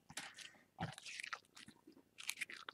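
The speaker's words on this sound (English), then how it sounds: "So I'm going to crunch it up like that." Soft, close crunching and crinkling as glycerin-soaked paper flowers are scrunched up by hand, in quick irregular bursts at low volume.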